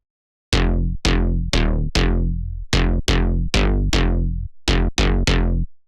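An aggressive synth lead sample for bass house and tech house, named Lead Corruption, hits with loud, heavy stabs in a choppy rhythm, each note starting bright and sharply decaying, with short pauses between groups.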